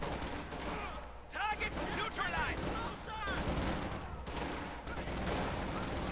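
Rifle squads fire volleys in the World War II strategy game Company of Heroes 2. The overlapping gunshots crackle in dense, repeated bursts while a commentator talks over the battle.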